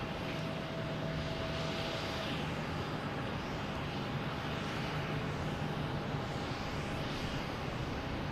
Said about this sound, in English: Swiss Air lined up on 4 right, heading back to Zurich